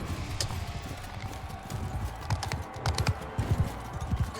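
Horse hooves in the video game Mount and Blade II Bannerlord, a run of sharp clip-clop hits growing denser toward the end, moderately close, with no talk over them.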